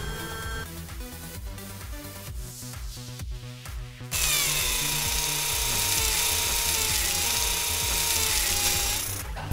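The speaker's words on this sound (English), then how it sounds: "Perseverance is drilling a rock to collect the sample." Perseverance Mars rover drilling into a rock to collect a sample: a whirring mechanical grind with a rising tonal whine, starting after a stretch of rhythmic clicking and rattling and then continuing loudly and steadily.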